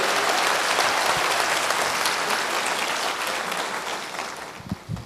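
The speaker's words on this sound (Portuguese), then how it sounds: "Vamos aplaudir ao Senhor por isso" Church congregation clapping during a service, a dense, loud wash of applause that holds steady and then gradually thins and fades toward the end.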